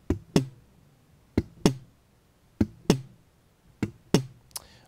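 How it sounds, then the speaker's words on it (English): Muted percussive ghost notes on a slap bass, slap and pull strokes played in quick pairs, four doubled knocks spaced evenly, close and fairly loud with no talking. "after the hammer-on, we do two ghost notes."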